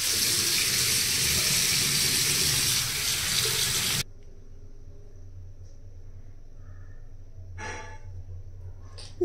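Tap water gushes loudly while a brush is rinsed, then cuts off abruptly partway through, leaving quiet room tone with a brief splash or rustle afterward.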